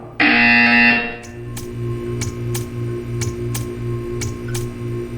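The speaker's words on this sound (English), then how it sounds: "You will hear a buzzer. When you hear the buzzer, stare at the art." A loud buzzer from a Portal 2 remake video game sounds for about a second, then regular faint ticking follows over a low, steady game hum.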